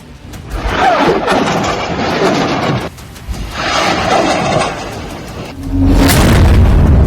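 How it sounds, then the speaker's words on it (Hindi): A rocket barrage strikes the Gaza Strip, heard as loud, rumbling explosions that roll on for seconds at a time, a brief lull, then another heavy blast building to a sustained roar. "गाजा पट्टी पर रॉकेट की बौछार"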